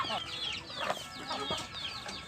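Kampung chickens of the ayam jalak type clucking and chattering close by in a home-scale backyard flock, repeated short calls overlapping in a busy, steady stream.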